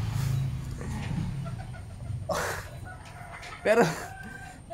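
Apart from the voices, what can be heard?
chicken clucking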